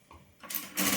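A sewing machine runs a short straight stitch on fabric for an umbrella frock, a brief whirring burst that starts soft, swells, and ends loud and close, with no talking.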